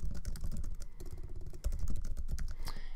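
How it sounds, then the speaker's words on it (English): Someone types a username on a computer keyboard, producing a steady stream of quick, close key clicks with a short pause partway through and no talking. "So we'll type in the BrickOwl username as whatever your username is on BrickOwl."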